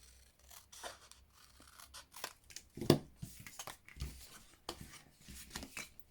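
Scissors cutting along a pencil line on card for a fun-fold card with pansy petals: soft, quiet snips and papery crunches spread unevenly over several seconds, with one sharper close cut near the middle.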